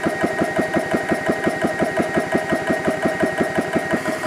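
Compact PCP air compressor pump running and building pressure, a steady mechanical chugging with fast regular piston pulses under a continuous motor hum, close and alone.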